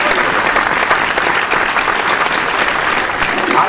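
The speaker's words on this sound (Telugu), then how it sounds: "మనం చప్పట్లు కొట్టొచ్చు సార్" Audience applause at a Telangana awards ceremony, a steady dense clapping from a large crowd, loud and continuous throughout with no pauses.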